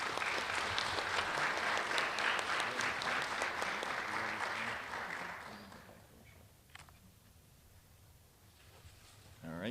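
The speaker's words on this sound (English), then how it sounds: "Let's give this group a nice round of applause." A school audience applauds a student group at a recognition event, a dense sustained clapping that fills the first half and then fades out, leaving quiet room tone with a few scattered claps.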